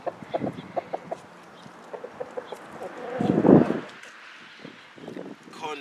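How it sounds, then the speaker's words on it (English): Farm chickens cluck in short repeated bursts close by, with a louder flurry of squawking midway, while a person talks nearby. "Country life is good. You get to have the birds with you."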